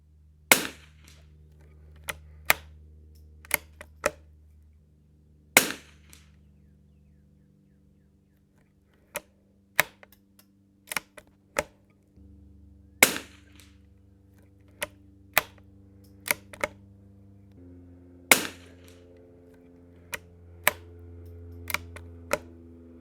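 A Savage Anschutz 54 Sporter rifle fires five separate sharp cracks with uneven gaps at a 100-yard range, each shot loud and brief and followed by softer clicks of handling in an otherwise quiet setting.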